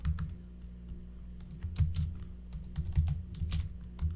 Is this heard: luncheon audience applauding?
no